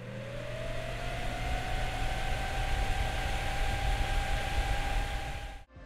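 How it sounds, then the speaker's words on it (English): Fans on a GeForce GTX 980 Ti graphics card spin up into a steady, loud whir with a rising tone that levels off, running alone throughout before cutting out abruptly at the end. "The card does get a little noisy once the fans start to ramp up."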